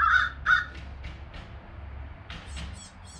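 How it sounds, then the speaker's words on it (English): A few crows caw in quick succession, fairly close at first, then more calls follow at a distance over a low background rumble. "Crows."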